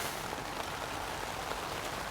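Rain falling on a tarp attached to a vehicle roof cage outdoors, a dense, steady patter of drops close overhead, continuous and fairly loud with no voices.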